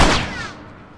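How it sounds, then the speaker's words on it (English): Gunfire in The Last of Us rings out as a single loud, sharp shot at the start, then trails into a decaying echo over about a second, with no voices. "Who else shooting?"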